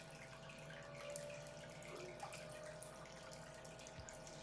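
Water pouring steadily into a reef aquarium to top it off, a continuous splashing trickle heard up close with a steady pump hum underneath.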